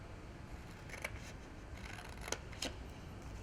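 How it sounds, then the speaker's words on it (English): Scissors cut card for a holiday craft, giving a few quiet, brief snips over a soft steady room hiss. "Cut that small little corner on either side."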